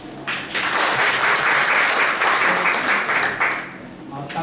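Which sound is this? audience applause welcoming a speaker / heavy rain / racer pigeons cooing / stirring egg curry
audience applause welcoming a speaker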